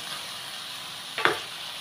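Food stirred in a pan with a tablespoon of cooking oil, with a faint low hiss building to one short, louder scraping sizzle near the end, alone without voices.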